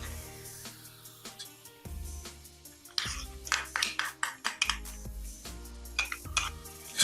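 Chex cereal coated in green candy melts is tossed around in a bowl, giving clattering, rattling taps and pings that come in uneven bursts, louder toward the end, with a low hum underneath.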